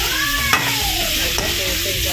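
Chicken or mutton liver is stirred in a hot pan for a liver masala, with a steady sizzle and two sharp spoon scrapes over a continuous frying hiss.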